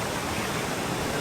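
A small rocky waterfall stream at Alasteen Rock in Jaffna, fed by a larger falls above, gives a steady, close rush of flowing water that stays even and fills the whole moment.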